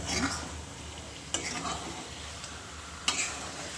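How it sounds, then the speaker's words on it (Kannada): A spoon stirs chicken gravy in a pan after salt is added, with soft scraping strokes over a gentle sizzle and two sharp clinks of utensil against the pot. "ಉಪ್ಪು ಈಗ ಉಪ್ಪು ಹಾಕಿ ಸ್ವಲ್ಪ ಚೆನ್ನಾಗಿ ತಿರುಗಿಸೋಣ"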